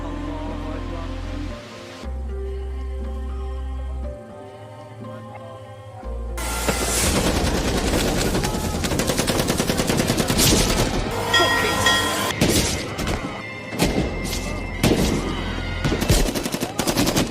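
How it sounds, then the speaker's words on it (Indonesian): Soldiers in a film fire thousands of bullets in a dense, loud, continuous fusillade of machine-gun rattle that starts after a quieter musical opening and keeps going to the end. "Disitulah ribuan butir peluru ditembakkan dengan keji."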